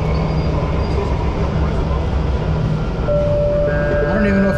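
Subway train riding through Buenos Aires, a steady loud rumble of the car in motion with rising tonal whine and squeal toward the end, heard close from inside.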